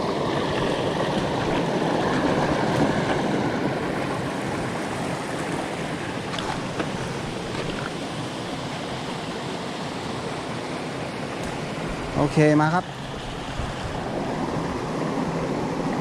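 Water rushing over a jungle waterfall at a forest stream's source, a steady broadband roar close by with brief knocks and a short chirp near the end; someone speaks briefly.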